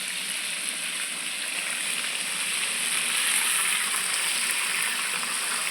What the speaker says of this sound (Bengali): কালিয়া এই মাছটা ভাজা হচ্ছে।